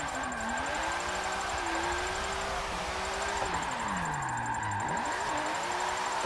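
Car engine in Forza 7 held at high revs while drifting, a steady loud drone that swoops down in pitch as the throttle eases, then climbs sharply again, continuous throughout.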